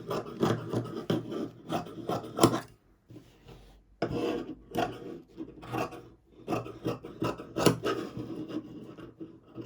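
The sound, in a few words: tailor cutting jacket fabric with scissors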